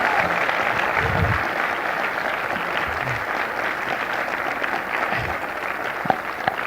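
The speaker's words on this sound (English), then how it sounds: "I think we deserve to give them one more round of applause for the great job they did" An audience gives a sustained round of applause for student performers after a stage production of Little Women, steady and moderately loud with a few scattered isolated claps and faint murmurs beneath.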